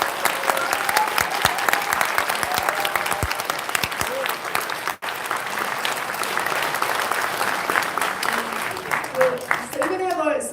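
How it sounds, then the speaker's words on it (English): Audience at a conservative political lecture breaks into sustained applause, dense and steady clapping from a large crowd lasting throughout, with a few whoops and voices mixed in near the end. "give him a big hand of applause again"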